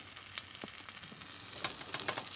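Butter sizzles and crackles steadily in a pan over a low flame while cooking bananes flambées, a soft, continuous frying hiss with small scattered pops and faint stirring clicks, no voices.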